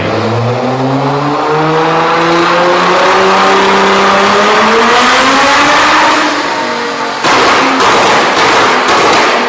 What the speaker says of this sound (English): it's going to explode and like pop out the back of the exhaust basically.